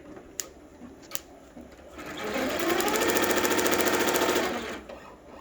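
A Highland 1501 C embroidery machine stitching a personalized hand towel starts up after a couple of clicks, then runs in a loud, fast, steady mechanical rhythm for about three seconds before winding down.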